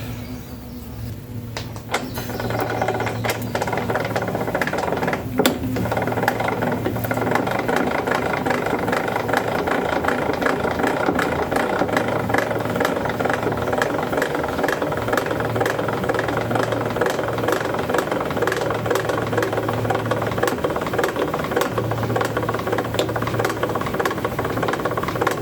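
A Delta TP305 benchtop planer runs with a steady mechanical drone and rhythmic knocking hum, starting up after a moment and continuing close and loud without talk.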